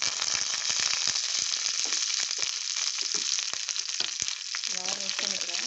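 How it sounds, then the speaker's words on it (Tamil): Finely chopped ginger, green chilli and curry leaves crackle and sizzle loudly in hot oil, a dense close spitting hiss with sharp pops throughout and brief stirring toward the end. "பொடியாக கட் பண்ண இஞ்சி, பச்சை மிளகாய், கருவேப்பிலையை ஆட் பண்ணிக்கிறேன்."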